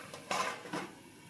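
A lid set onto a pot of cauliflower curry, two quick metallic clanks close by against a quiet kitchen background.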